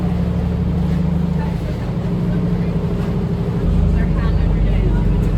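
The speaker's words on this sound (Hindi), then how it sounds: "तो हमारी बोट यहाँ पे अभी रुकी है, ये बोट का एक स्टॉप है।" A tour boat idles at a stop on Lake Como, its engine a steady, close low rumble that thickens and grows slightly louder toward the end, with no talk over it.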